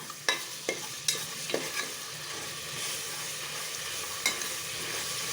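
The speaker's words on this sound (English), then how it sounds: "as soon as the oil is hot, I will put in 1 teaspoon of ginger garlic paste" Ginger garlic paste fries in hot oil with a steady sizzle, while a spoon scrapes and stirs in several sharp clicks in the first half, then the frying hiss continues alone.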